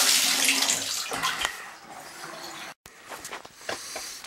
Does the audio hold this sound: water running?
yes